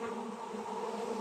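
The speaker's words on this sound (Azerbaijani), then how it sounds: "Ve havada uçan arılar da onlarla arayacak." A swarm of honeybees flies near the hive, a dense, steady buzzing drone that fills the air at close range with no talking.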